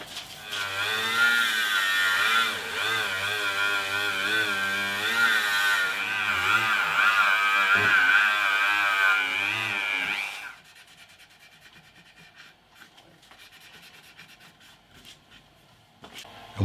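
A power tool polishes a fret on a handmade classical-style guitar, giving a steady, close, wavering whine for about ten seconds before it cuts out and leaves a quiet room.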